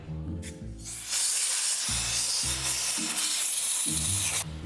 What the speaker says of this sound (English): I'm gonna blow this out with air